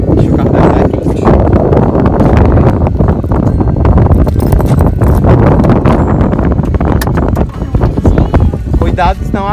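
Strong wind buffets the microphone at Lagoinha beach, a continuous loud roaring rush that nearly fills the whole stretch, with voices talking underneath.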